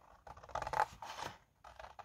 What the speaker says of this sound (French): Donc vous prenez des ciseaux et vous venez couper